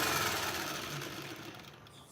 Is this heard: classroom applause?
no